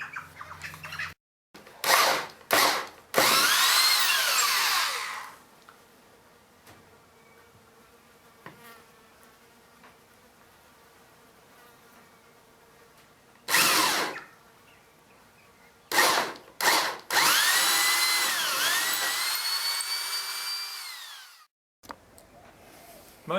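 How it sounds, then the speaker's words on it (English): A power drill whines in several bursts, drilling through a boat's fiberglass gel coat, revving up and down, with long high-pitched runs separated by short starts and quiet pauses. "When drilling fiberglass, you can reduce the chance of chipping the gel coat"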